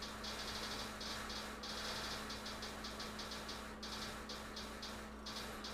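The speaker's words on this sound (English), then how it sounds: "let's check the engine sound" A car engine idling in a video game mod, giving off a steady low hum with repeated rhythmic rattling and knocking bursts, alone with no voices.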